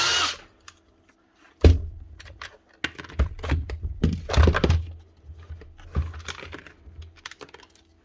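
Plastic parts pried and pulled off a Bosch GBH 8-45 D rotary hammer with a broken eccentric gear, outdoors: scattered close clicks, taps and clunky knocks at an irregular pace, with one louder thunk early on.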